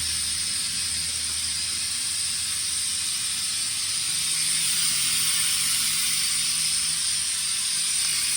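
A vacuum oil extractor draws engine oil from a Honda with a steady, loud hiss of suction that runs without pause, with a faint mechanical rattle underneath and no voices.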